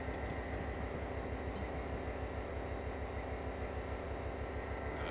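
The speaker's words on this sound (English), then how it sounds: "Aren't we supposed to be passing another Norfolk Southern train here at some point?" A Norfolk Southern freight train passes in Train Simulator 2015, a steady, dense rumble and roar of rolling rail cars that holds at constant loudness throughout, with faint high rhythmic clicks above it.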